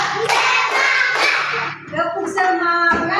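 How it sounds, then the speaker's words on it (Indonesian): Classroom applause for a student group, brisk bursts of hand claps in short rhythmic rounds close by, mixed with a teacher's voice speaking over the clapping. "tepuk tangan untuk kelompok 2"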